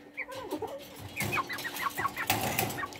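Silkie chicks and tiny Serama hens with their chicks cheep and cluck in a pen, a close run of high, rapid peeping mixed with soft clucks and no talking.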